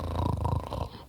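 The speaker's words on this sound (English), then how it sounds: "after a little while began to snore, pretending to be asleep." A single low, rumbling snore from a man rattles close by, a brief raspy inhale that fades out at the end.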